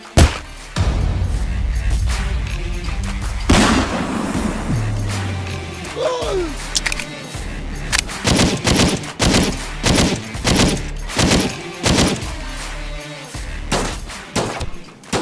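Rapid bursts of gunfire and thudding bullet impacts on players in the ONSET life-simulation game, loud, repeated shots in quick rhythmic volleys with a few separate thumps, with no one talking over them.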